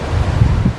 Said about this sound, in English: Naturally, I would pick a windy day to do a post, but I'm going to have to keep going even with the wind